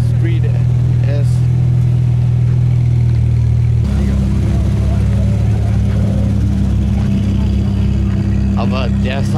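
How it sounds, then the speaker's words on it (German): The engine of a Ferrari F430 Spider with a Kline exhaust drones loud and close, its tone changing partway through. Voices talk over the sound. "Aber der Sound vom Ferrari, Mama mia."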